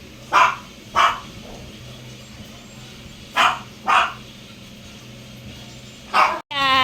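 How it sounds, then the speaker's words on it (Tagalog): A dog barks in short bursts: two quick barks, a pause, two more, then a final yelp, fairly close against a quiet background. "Ingay-ingay ni Choco."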